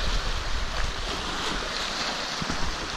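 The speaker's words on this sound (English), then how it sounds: "close to 3 foot, probably two and a half foot waves" Wind-driven waves, around two and a half to three feet high, churn on Pickerel Lake in Quetico on a rough morning, making a steady broadband wash of surf and wind without a break and with no voices.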